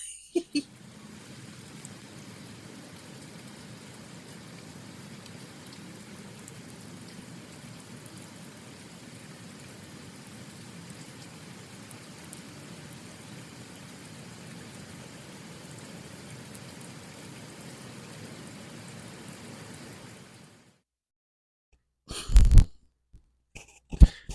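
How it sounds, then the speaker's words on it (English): Steady rain heard through an open window, a soft even hiss that runs for about twenty seconds before cutting out, followed by a few brief handling noises. "I have my window open and I wanted to hear the rain."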